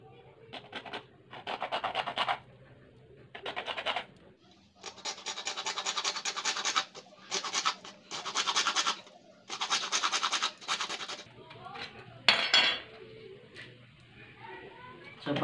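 A hand saw cuts through PVC pipe for a DIY pulley, giving close, raspy back-and-forth strokes in rhythmic bursts separated by short pauses.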